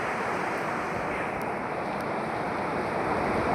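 Heavy monsoon rain pouring over an industrial area of Kalyan makes a dense, unbroken roar, loud and close throughout, with no voices.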